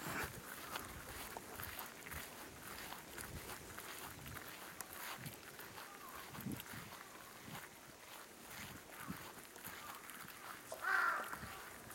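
A crow caws faintly in the distance outdoors, with soft footsteps and wind around it and one slightly clearer caw near the end.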